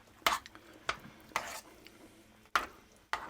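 A spoon stirs strong cheddar cheese into a thickening sauce for bacon mac and cheese, giving several distinct scraping swirls with short pauses between them, close and fairly quiet.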